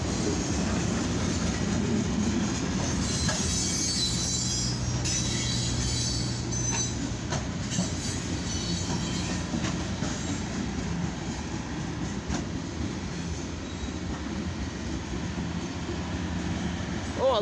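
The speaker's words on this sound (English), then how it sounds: "we got a CSX eastbound mixed freight train on track 1" A long CSX eastbound mixed freight train rumbles steadily past nearby in Deshler, wheels clattering and occasionally squealing over the rails, with a continuous heavy roar throughout.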